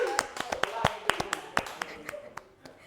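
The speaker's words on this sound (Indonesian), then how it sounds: "Tepuk tangan untuk kelompok 3." A few people clap in a quick, uneven rhythm, sharp individual claps close by that gradually thin out.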